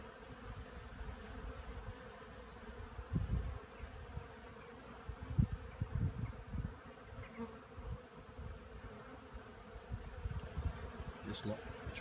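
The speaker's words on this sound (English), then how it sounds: "And as the bees are coming out, they are orientating as they leave the hive." Many honeybees buzz in a steady, overlapping drone as they leave the hive, with individual insects swelling louder as they pass close, no one speaking.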